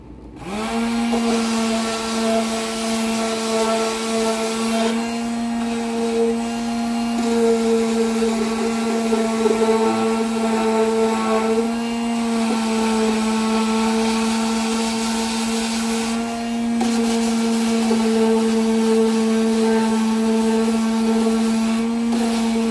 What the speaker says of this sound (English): I am actually using my Black & Decker. And it is a edge, like a triangle sander. And I'm gonna go ahead and sand this down.